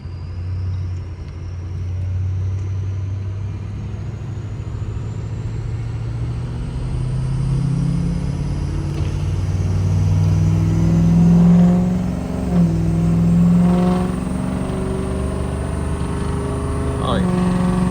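Ford 6.0 Powerstroke diesel pickup with a new turbo driving down a street, its engine rumbling steadily and rising in pitch as it accelerates and builds boost, with a rising turbo whistle above the drone.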